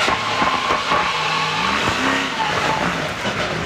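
On-board engine roar from the number 3 NASCAR Pinty's Series race car during the Budweiser 300, loud and continuous with shifting revs and a brief tire squeal, no voices.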